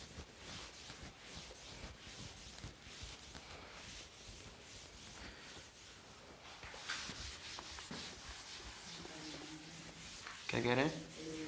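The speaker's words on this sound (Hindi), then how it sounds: "मैं रब करने वाला हूं" A classroom board being erased after a physics lesson on electrical power: steady, scrubbing rubbing strokes over several seconds, fairly close, with brief voices and a squeak near the end.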